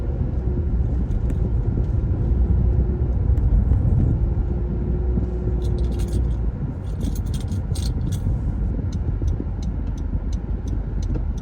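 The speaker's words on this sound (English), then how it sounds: "But yeah, driving right now." Steady low road rumble inside a moving car, constant and close throughout, with small rattles and jingling clicks scattered over the drone.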